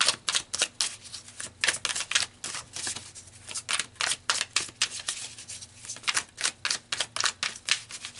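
Tarot cards being shuffled in a quiet room, a rapid run of crisp, papery riffles and snaps in quick bursts, close and fairly loud with no voice.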